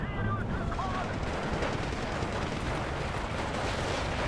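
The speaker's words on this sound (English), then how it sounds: "now we've got artillery falling on our position" Artillery shells falling on a position in the Steel Division 2 war game, a dense, continuous rumble of explosions and gunfire that stays loud throughout, with faint speech buried under it.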